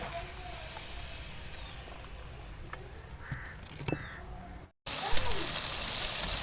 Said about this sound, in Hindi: तो अब हम इसको फ्राई कर लेते हैं।